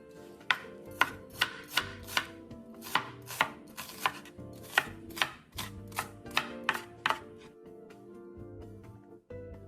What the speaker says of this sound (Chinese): 洋葱半个，重100克，